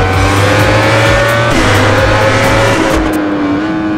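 A steady, loud engine drone with a sustained, slowly rising pitch at top speed in sixth gear, from a motorcycle racing along a straight at the Le Mans circuit in the MotoGP 19 video game.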